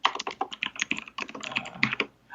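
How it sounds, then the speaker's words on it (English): Fast, steady clatter of typing on a mechanical keyboard, close and crisp, with dense overlapping keystrokes and no voices. "I have a mechanical keyboard."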